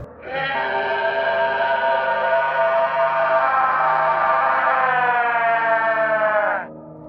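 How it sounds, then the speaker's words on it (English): A cow-like creature lets out a long, loud, wavering screech with a harsh bleating quality instead of a moo, holding for several seconds before cutting off abruptly. "But instead of a moo, it let out an abnormal screech."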